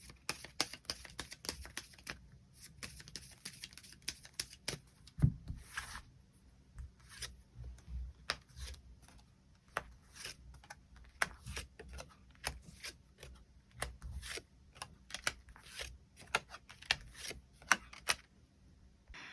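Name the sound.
drawing and laying out tarot cards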